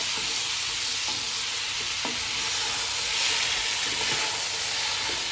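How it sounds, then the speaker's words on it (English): Potatoes sizzle steadily in a pan over high gas, with faint scrapes of stirring at intervals for a potato curry, close and continuous. "So add the potatoes to it. Give it a good stir."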